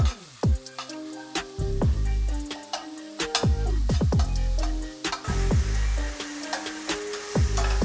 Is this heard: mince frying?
yes